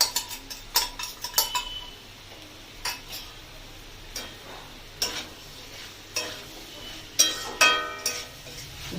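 A spoon stirs ridge gourd with turmeric, coriander, cumin and chilli powder in a pan, clinking and scraping in uneven bursts over a low sizzle, close and fairly loud.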